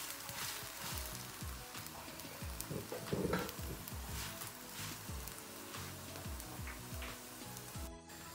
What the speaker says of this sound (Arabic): غادي نديروا شويه ديال الزيت وغادي نقلبوه غير كي هكا هكا